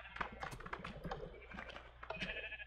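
Minecraft sheep in wool farm pens bleating repeatedly in quick overlapping bursts, mixed with clicky keyboard or footstep taps, fairly faint and without talk.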